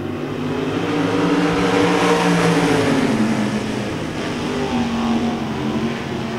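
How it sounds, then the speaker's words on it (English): Race cars at a speedway roar loudly and steadily as engines rev and accelerate at the green flag, a dense, continuous engine drone with no pauses. "Now you can kind of hear him revving up just a little bit."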